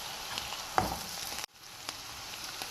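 Red chilli, onion, salt and chilli powder fry softly in a pan, giving a faint, steady sizzle broken by a few sharp stirring clinks and a brief cut.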